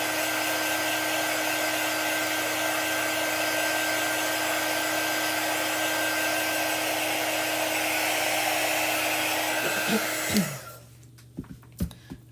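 A handheld hair dryer blows a steady, loud whoosh over a chalk-paste craft piece for about ten seconds, then shuts off abruptly, leaving a few faint clicks and handling taps.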